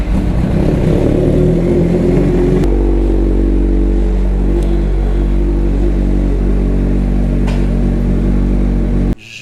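Honda CB1000 motorcycle riding on the road toward a racetrack, with a loud, steady engine drone and heavy wind rush throughout.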